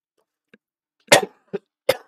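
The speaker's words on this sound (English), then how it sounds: "I had a little bit of a cough" A few sharp coughs close up, one faint then three louder bursts spaced unevenly in otherwise quiet surroundings, during Minecraft Java gameplay.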